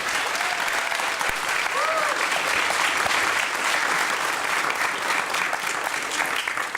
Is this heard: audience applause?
yes